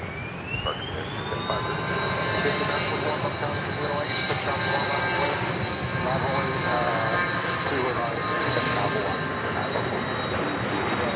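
A jet airliner takes off at Dallas Love Field airport with a sustained, fairly distant roar and a steady high whine. A faint radio voice can be heard underneath.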